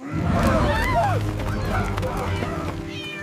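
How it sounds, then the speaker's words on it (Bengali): A cat meows in a short rising-and-falling wail, sitting fairly close amid a busy background of voices and other noise. "সেটা তো বিড়াল ছিল"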